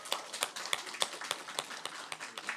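Church congregation clapping at a Christmas worship service to welcome a cell group coming forward to sing, a quiet, sparse round of claps with individual hand strikes audible.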